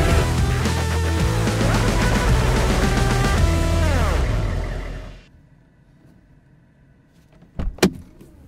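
A Porsche Panamera Turbo's suspension lifts with a steady electric motor whir that winds down and stops, leaving near silence before a short sharp knock near the end.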